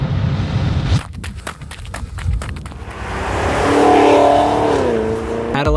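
A Cadillac CTS-V's engine revs hard and builds into a loud, rising roar over a few seconds. Sharp mechanical clicks come first, and a voice speaks briefly early on.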